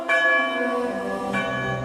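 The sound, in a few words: church bell tolling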